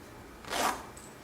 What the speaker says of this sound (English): Go ahead and close your zipper